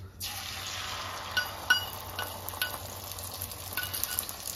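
Food dropped onto a hot oiled tawa bursts into a steady, moderately quiet sizzle with faint crackles and a few utensil scrapes, no talking.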